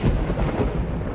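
A brief, deep roll of thunder before rain, a dense low rumble heard alone at moderate loudness.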